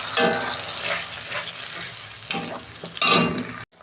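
Ground spice paste dropped into hot oil in a pan, crackling in loud bursts at first, then a continuous sizzle with repeated sharp flare-ups before cutting off abruptly.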